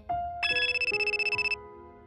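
A telephone rings in a Japanese horror skit about a mysterious, unsettling call: a rapid trilling electronic ring that pulses steadily for about a second and a half, loud and close, then stops, with no speech.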